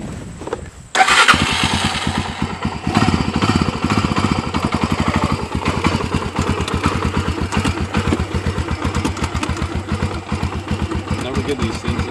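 A Honda 300EX ATV engine starts up and idles close by, a steady rapid single-cylinder putter with slight revs, with someone talking near it.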